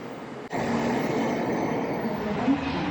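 Non-Shinkansen train at a platform in Okayama station, a sudden onset of steady low rumbling and whirring that stays constant and close for a few seconds.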